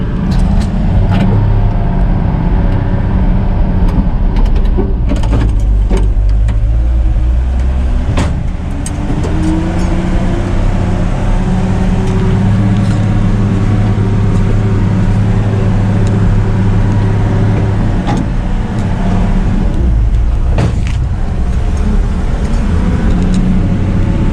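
A 1962 Dodge D100 pickup truck drives across a field, its engine droning steadily close by with low rumble and occasional bumps and rattles, no talking.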